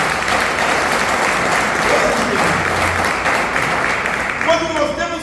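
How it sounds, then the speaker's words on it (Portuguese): A church congregation bursts into loud, sustained applause that carries evenly throughout, with a voice starting to speak over the clapping at the very end. "Pode aplaudir esse irmão que ele entendeu."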